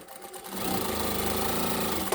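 Sewtech SW-1968-L sewing machine stitching with a short stitch length, spinning up quickly into a steady, loud mechanical whir that runs continuously and close, with no voices.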